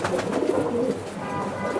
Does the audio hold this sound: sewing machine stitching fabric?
no